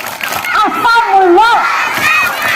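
A crowd of kindergarten children at a hajj ritual rehearsal shout together in a loud, rising group chant for the Pariangan clap.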